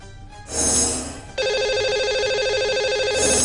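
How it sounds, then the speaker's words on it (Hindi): A telephone rings as a radio host calls a listener on air, giving a short trill burst followed by a longer, steady electronic ringing tone, loud and clear with no speech. "चलिए उन्हें फोन लगाते हैं।"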